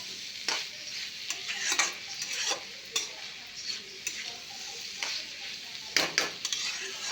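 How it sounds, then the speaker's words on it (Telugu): Cabbage, beetroot and carrot fry in a pan under a soft continuous sizzle, with irregular clinks and scrapes of a spoon stirring against the metal; no talking. "ఇప్పుడు బాగా కలిపి ఇంకోసారి మూత పెడదాం."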